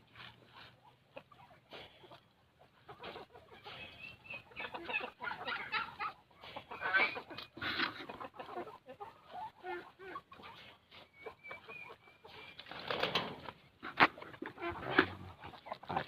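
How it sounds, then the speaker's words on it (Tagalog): Native labuyo chickens on a farm clucking and calling in scattered bursts over a steady background of bird and yard noise, fairly close, with no talking. "Mga labuyo chicken."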